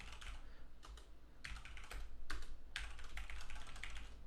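Rapid computer keyboard typing, close and quiet, with bursts of clicky keystrokes separated by brief pauses and a faint low hum underneath.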